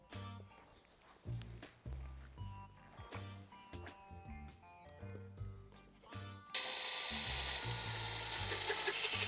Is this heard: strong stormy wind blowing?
no